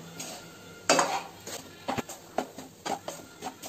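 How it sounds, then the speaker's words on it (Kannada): Spoon stirring spiced food with salt and coriander powder in a metal pot, a quiet series of close scraping clinks in an uneven rhythm. "ಆದಷ್ಟು ಚೆನ್ನಾಗಿ ಮಿಕ್ಸ್ ಮಾಡ್ಕೋಬೇಕು ನಾವು."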